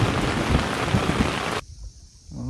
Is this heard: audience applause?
no